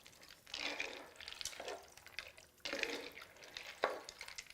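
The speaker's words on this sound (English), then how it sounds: "Let's go ahead and stir this all around." Pasta and water are stirred in a pot on medium heat for a one-pot homemade Hamburger Helper, giving soft, close sloshing and scraping strokes in several bursts, quiet and without speech.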